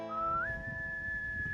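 A single person whistles a sustained tone that slides upward and then holds steady, clear and close against a faint low background.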